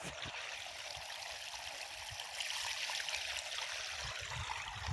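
Canal irrigation water flows steadily into a tobacco field, a continuous rushing, gurgling wash that stays even and close with no voices.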